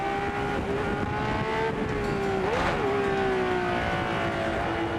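A 1972 Ferrari 312 PB race car at Spa roars steadily past with a high-pitched, continuous engine note that dips and rises as it passes, loud and close throughout.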